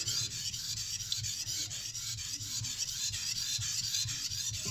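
A knife blade is sharpened on low-grit sandpaper glued to a board, producing a steady, close rasping scrape with repeated strokes that run on continuously without any talk.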